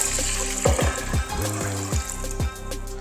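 Water splashes and sloshes into a pot holding short grain white rice, with uneven gurgles and a few thumping bursts close by; no voices.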